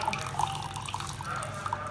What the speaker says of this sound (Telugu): అవన్నీ పడకుండా ఆ వాటర్ ఒకటే దీంట్లో వంపుకోవాలి